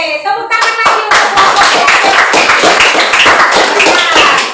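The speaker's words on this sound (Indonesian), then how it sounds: "Tepuk tangan lagi untuk" A classroom of students claps for a group, a dense, loud round of applause starting abruptly after a brief spoken voice and continuing steadily with many hands close by.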